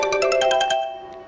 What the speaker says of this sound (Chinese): 你看看，资方爸爸又来电话了